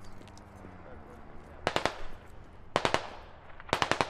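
M4 rifle gunfire in a military squad video game: three short, sharp bursts of rapid automatic shots, each a few rounds long, ring out clearly over a quiet background.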